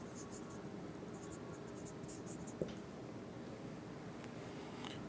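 Handwriting on paper during an accounting lesson, a faint continuous scratchy rustle of pen strokes with a brief tap partway through, quiet and steady throughout.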